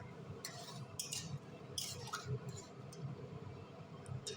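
A spoon scrapes and clinks softly against a pan as boiled chickpeas are stirred for ghugni. The contact sounds are faint and scattered over a low, steady kitchen hum.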